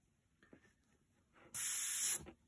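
A miniature-painting airbrush gives a single short, steady hiss of spray lasting under a second after a few faint clicks, close and moderately loud.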